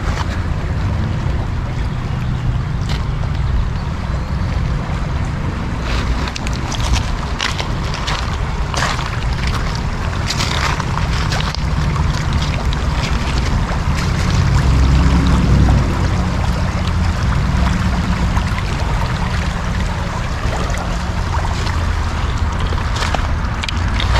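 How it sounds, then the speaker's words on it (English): A small steady creek flows in a park with a continuous rushing, splashing wash of water, loud and unbroken, with faint wind and no voices. "Like pretty steady little creek right here."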